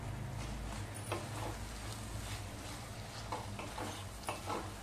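Bean pods tossed into softened vegetables in a pan for a Satara-style Bhogi bhaji, a steady close sizzle and frying hiss with scattered stirring scrapes and clinks, no talking.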